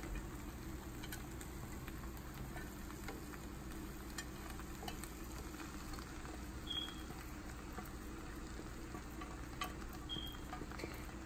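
Spaghetti being stirred with sauce in a heavy pot for spaghetti a la diabla, a steady low simmering bubble and faint scraping continuing evenly throughout with no talk.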